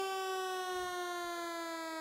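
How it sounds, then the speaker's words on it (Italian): A siren sounds at a harness horse race, a steady, sustained wail that holds one pitch throughout, heard from a distance over faint crowd ambience. "suona comunque la sirena"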